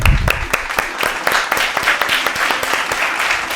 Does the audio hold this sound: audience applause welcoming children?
yes